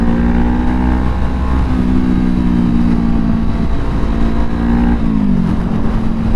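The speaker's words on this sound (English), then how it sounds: "I would never go back to the stock exhaust on this bike" Honda CBR500R motorcycle with an aftermarket exhaust, its engine droning steadily and loudly with slight rises and dips in pitch as the throttle moves, close by with no talking.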